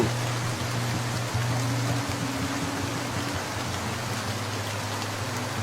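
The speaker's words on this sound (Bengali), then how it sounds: "মানিকদা, এভাবে বৃষ্টিতে ভিজে খড়ি কাটছো কেন বলো তো?" Steady rain falling in a flood-hit village, a dense continuous hiss of drops on surfaces with a faint low hum beneath and no voices.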